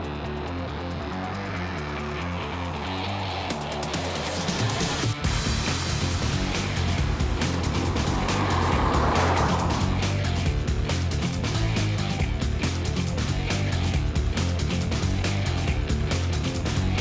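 A BMW 220d Gran Coupe with a 2-litre four-cylinder diesel engine drives along, giving a steady, loud hum and road roar with a brief bump partway through, continuous throughout with no speech.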